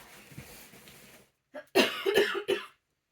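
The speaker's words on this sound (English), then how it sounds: "Welcome to me coughing" A fit of coughing up close, several hoarse coughs in quick succession after a quieter, muffled stretch.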